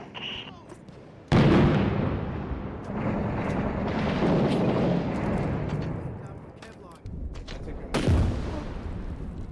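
Video game combat with a thrown grenade: a sudden loud blast followed by rumbling gunfire and booms, then a second sharp explosion near the end, with voices talking over the action.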